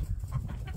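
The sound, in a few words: rooster crowing on a homestead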